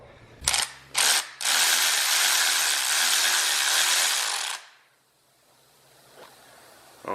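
A power tool whirs in two short bursts and then a long sustained high whine as it backs out a side bolt, stopping abruptly and leaving quiet with a faint click afterward.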